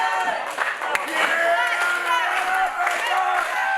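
Wrestling crowd at a Glory Pro Wrestling show roaring and cheering continuously, with scattered clapping and whoops, a dense, loud wash of voices that holds steady throughout.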